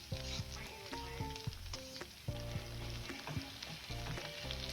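Curry leaves and onion frying in a pan for a capsicum stir-fry, a steady sizzle with crackles and the clatter of a stirring spoon.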